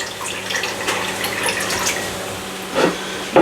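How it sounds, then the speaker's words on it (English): Water pours into an Instant Pot pressure cooker during preparation of Rio cranberry chicken, a steady splashing flow close by that swells near the end. "pour that water in here"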